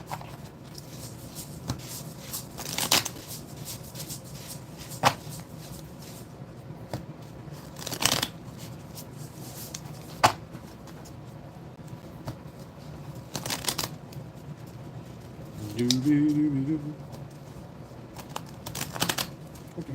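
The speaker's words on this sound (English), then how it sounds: "I am sloppily shuffling these split cards" Strat-O-Matic baseball split cards are shuffled loosely and unevenly, giving soft scattered riffles and papery flicks with occasional sharper snaps, close up and fairly quiet over a calm room.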